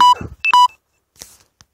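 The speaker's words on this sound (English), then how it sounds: "the phone is telling me that the battery is low" A phone sounds short electronic low-battery warning beeps, a pair of clear tones close together followed by fainter clicks, heard on a quiet street with no one talking.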